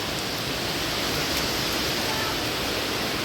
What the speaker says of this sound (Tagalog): Naku, nagtatay sila ng tubig.